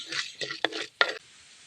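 Chana dal roasts in a pan as a few short scraping stirs and light clinks of a utensil against metal, close and brief, then quiet.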